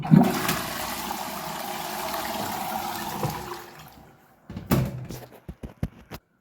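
A toilet flushes with a loud rush of water that fades out after a few seconds, followed by a handful of clicks and clunks.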